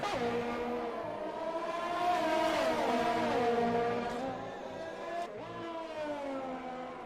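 Formula 1 race car engines in an F1 racing video game wail loudly and close, pitch climbing through gears as the cars accelerate, with a second engine layered in and a quick shift dip near the end.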